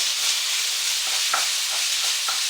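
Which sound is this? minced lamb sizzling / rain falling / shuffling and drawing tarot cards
minced lamb sizzling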